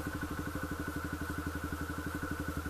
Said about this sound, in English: Just going to let the clutch out very, very slowly until you start hearing the bike making like a whining sound, like it wants to go.